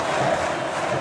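A huge football stadium crowd of Vasco supporters roars steadily in applause for player Felipe during the Copa do Brasil 2011 final, a broad, sustained wash of cheering.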